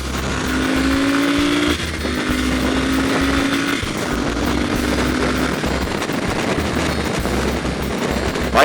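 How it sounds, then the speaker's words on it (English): A Norge motorcycle engine idles with a steady low throb and rises in short revs, loud and close throughout. "It does rock you to the side a little bit when you're sitting at a stoplight if you're revving it."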